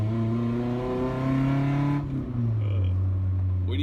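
A 1992 Toyota Pickup 22RE engine with headers revs hard and climbs in pitch, shifts partway through, then pulls again with a deep, throaty exhaust note close by.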